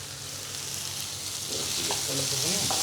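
Tomato frying and being stirred in a pan for gongura egg curry, with a steady loud sizzle throughout and scraping stir sounds picking up in the second half; no talking.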